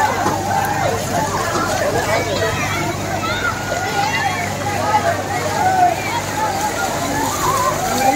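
Crowd hubbub and splashing water fill a busy water park in Banaras, with children playing and a steady wash of chatter and sloshing throughout.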